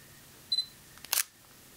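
A Sony NEX-7 camera fires once with its flash: a faint high whine as the flash charges, then a brief, crisp double-click of the shutter, close and quiet.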